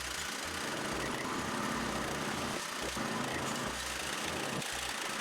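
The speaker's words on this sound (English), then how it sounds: "It's still strenuous work to use this power auger" Rented one-man gas power auger, 12-inch by 3-foot bit with extension, drilling post holes for a pool deck: a steady small-engine drone at moderate distance, with brief dips and surges as the bit bites into soil.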